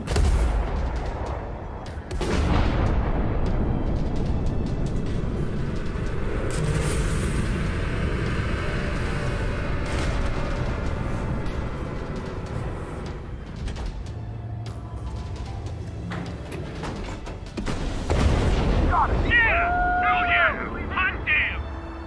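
Weapon fire and heavy explosions from the aerial combat video game Ace Combat 7, a loud continuous rumbling barrage with booming blasts, ending in a sharp burst near the close.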